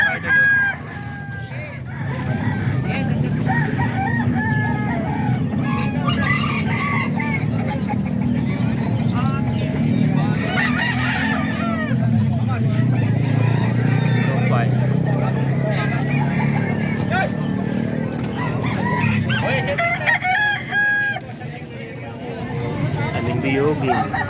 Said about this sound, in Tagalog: Bali may 4 pang pirasong nakikita tayo dito na nakalatag na manok ni Buskin mga ka-idol